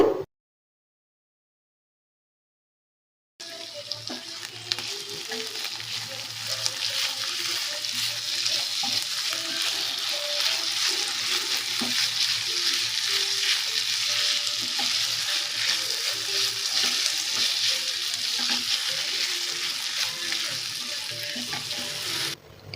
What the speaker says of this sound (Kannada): ಈಗ ತುರಿದಿರೋ ಪೊಟ್ಯಾಟೋನ ಹಾಕೊಳ್ತಾ ಇದ್ದೀನಿ ಈಗ ಟೆನ್ ಮಿನಿಟ್ಸು ಚೆನ್ನಾಗಿ ಫ್ರೈ ಮಾಡ್ಕೋಬೇಕು